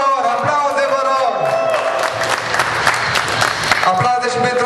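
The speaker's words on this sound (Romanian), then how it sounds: "Aplauze, vă rog!" A crowd at a drift racing prize ceremony breaks into loud applause and cheering, clapping close and strong with whoops and voices mixed in throughout.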